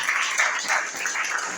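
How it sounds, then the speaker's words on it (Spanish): Church congregation applauding together, a dense, even wash of many hands clapping at moderate distance for a couple of seconds, with no voices over it. "dele un aplauso con toda el alma al autor de la palabra"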